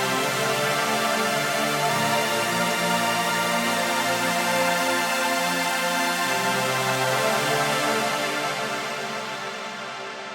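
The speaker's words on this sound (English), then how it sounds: "Together with the other pad, it sounds like this" Two layered synth pads for an epic uplifting trance track sustain rich chords that shift a few times, then thin and fade toward the end.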